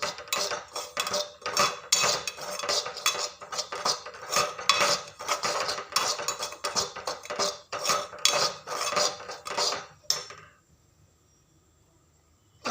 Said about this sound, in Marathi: मी आता त्यामध्ये एक वाटी रवा असा भाजून घेते